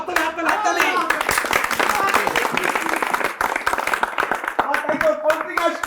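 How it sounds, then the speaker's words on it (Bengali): Villagers clap their hands in a loud, sharp, uneven burst of applause that keeps going throughout, with voices talking and calling over the clapping. "এই যে আসতেছে, হাততালি হাততালি হাততালি।"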